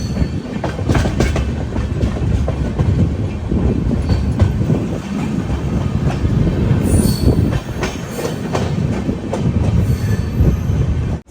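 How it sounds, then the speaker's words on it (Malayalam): The Hampi Express rolls along the rails into Yeshwantpur railway station, a loud, steady rumble with rhythmic clickety-clack of wheels and occasional high wheel squeals, heard close and without talk. "യശ്വന്ത്പൂർ റെയിൽവേ സ്റ്റേഷനിലേക്ക് ഇത് നമ്മുടെ ട്രെയിൻ എത്തിയിരിക്കുകയാണ്."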